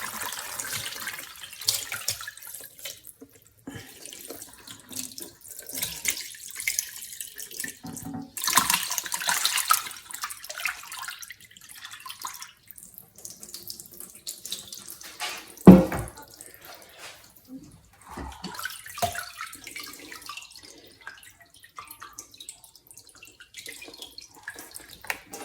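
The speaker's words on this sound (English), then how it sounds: "now we're going to drain the curds from the whey" Whey drains and splashes from Wensleydale cheese curds in a home kitchen, trickling and pouring in uneven bursts with soft drips, quiet and close, and one brief knock partway through.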